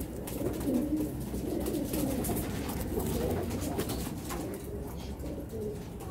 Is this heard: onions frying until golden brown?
no